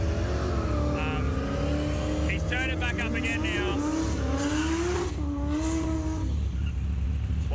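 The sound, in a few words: drag race car accelerating down the strip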